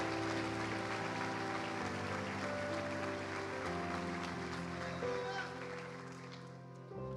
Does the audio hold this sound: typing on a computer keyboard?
no